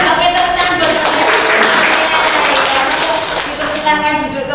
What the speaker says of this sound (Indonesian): Oke, tepuk tangan buat Bapak.